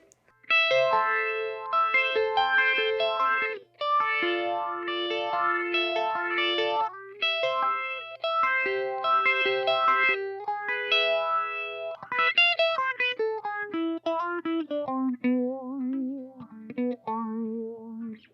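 Electric guitar on the bridge pickup through a Marshall Class 5 amp with a modulation pedal, playing a continuous run of chords and single-note lines with a shimmering, wavering effect, close and fairly loud with no talking.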